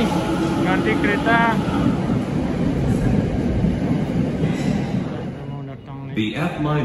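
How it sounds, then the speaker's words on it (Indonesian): Steady rumbling inside a moving train in Japan with rhythmic rail noise, and faint voices and a chime-like announcement tone in the background. "Naik kereta lagi, ganti kereta."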